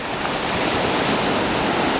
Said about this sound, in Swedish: Så här ser vågorna ut förresten.